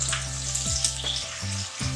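Four green chillies sizzling in hot oil in a pan, a close, steady frying hiss with a low hum running beneath it.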